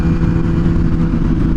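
An MV Agusta SV 1000 Oro motorcycle engine runs loud and near at a steady, throaty high idle with a slightly pulsing rumble and no voices.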